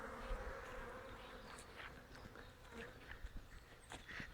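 At a busy honeybee hive in spring, foragers flying in with pollen make a soft, steady buzz, with individual bees passing close to the microphone now and then and faint scattered knocks beneath.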